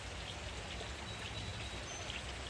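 Steady rain falls outdoors beside a new swimming pool, an even, close patter of drops hitting surfaces that holds constant without any talking.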